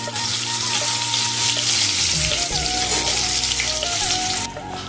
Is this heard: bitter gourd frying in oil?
yes